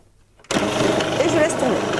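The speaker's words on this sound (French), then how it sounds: "Et on va tout simplement mixer directement en fermant l'appareil." Magimix food processor starts abruptly and runs at a steady, loud, close whir while blending icing sugar for macarons, after a moment of near silence.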